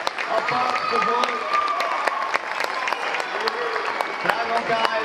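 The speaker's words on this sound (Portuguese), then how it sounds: "Aplausos, por favor." Audience applause for performers on stage, a steady crowd clapping with scattered sharp claps, continuing for several seconds.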